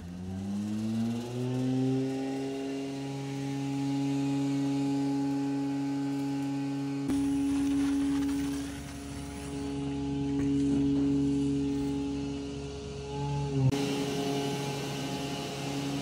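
A pump empties a septic tank during an inspection, holding a loud, steady motor hum that changes character twice.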